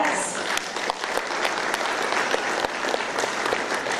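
A school board meeting room fills with steady applause from the gathered crowd, dense close clapping that holds evenly for several seconds, with faint voices underneath.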